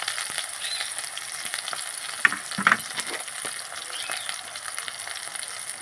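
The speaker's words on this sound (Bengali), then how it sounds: "একটু কষিয়ে নেব।" Hilsa fish pieces fry in a pan with turmeric and chili powder, giving a soft, steady sizzle broken by a couple of sharp stirring knocks and scrapes close by.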